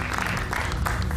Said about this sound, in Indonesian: Kita berikan tepuk tangan Bung Pitra.